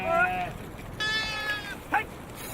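Sheep bleat from a Gaddi shepherd's flock in the high mountain pastures, with a few wavering bleats in quick succession, fairly close, over a light outdoor background.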